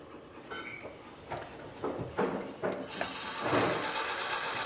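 A boring machine drills holes into chair wood at about 300 RPM, giving a faint, rhythmic series of cutting bursts that grow a little louder toward the end, with no talk over it.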